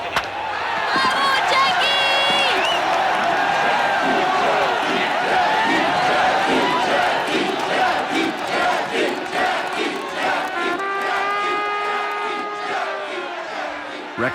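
A large crowd of Montrealers cheering at a baseball game where Jackie Robinson played, a dense, continuous roar of voices and shouts swelling and holding loud throughout, with a few tonal calls rising above it.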